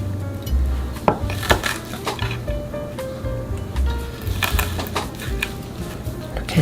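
A knife presses and crushes thick wild chive (dallae) bulbs on a wooden cutting board, giving a string of close, dull knocks and squashing clicks in an irregular rhythm.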